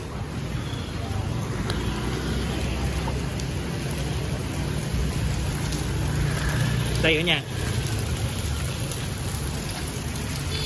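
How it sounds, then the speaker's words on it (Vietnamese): Heavy rain pouring steadily outdoors, a dense continuous hiss of drops on surfaces, with a person speaking briefly over it and a short sharp knock partway through. "mưa nãy giờ là cũng hết 30 phút rồi mà mưa thì nó lớn hơn so với những cơn mưa khác"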